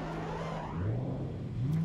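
A drift car revs hard on the Oschersleben circuit during an AvD Drift Championship finale run, its engine note rising and sliding in pitch over a steady roar, loud and close with no talk.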